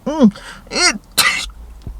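A vocal burst with rising pitched sounds followed by a sharp, noisy explosive burst, like a sneeze, close and loud, with a faint thump after.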